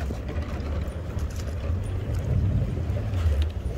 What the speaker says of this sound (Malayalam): ഹാരിസ് കൃത്യതയോടെ ബോട്ട് ഡോക്കിലേക്ക് അടുപ്പിക്കുന്നു